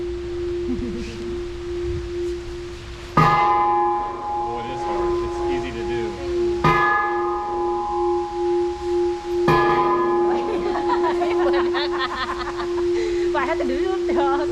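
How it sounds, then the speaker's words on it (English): Large temple bell in Khon Kaen struck three times, each loud clang ringing out and decaying over a constant low hum, with people chatting nearby and more ringing toward the end. "That is a big bell."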